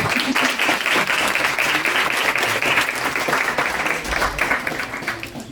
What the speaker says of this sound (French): On peut les applaudir un petit peu.